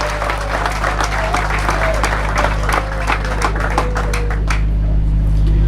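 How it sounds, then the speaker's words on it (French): A political party meeting crowd breaks into loud applause that continues steadily. A low hum and a faint tonal whine sit underneath, and the clapping tails off near the end. "Nous devons applaudir."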